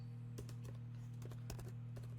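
Computer keys clack in short irregular bursts over a steady low electrical hum, close and fairly quiet.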